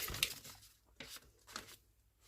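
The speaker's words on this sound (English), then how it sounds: "So for smaller bits, it's sometimes easy just to rip it with your fingers." Scraps of paper ripped by hand for an envelope collage, a few short tearing rasps close by, each separated by a pause, with no talking.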